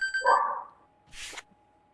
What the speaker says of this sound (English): We got barking doggies.